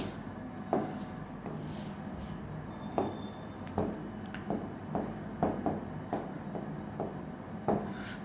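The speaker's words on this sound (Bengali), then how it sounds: "তারপর হচ্ছে রাজশাহী লিখছি" Pen or marker writing a word on a board or paper during a lesson, producing soft scratchy strokes with several brief louder taps and scrapes in a quiet room, no talk.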